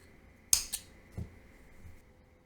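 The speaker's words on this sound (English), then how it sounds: "After the slip stitch, we're going to change color. Cut the yarn" Scissors snip through crochet yarn while changing colour on a small cat coaster, giving one sharp close cut followed by a second quick snip and a faint soft rustle afterward, no talking.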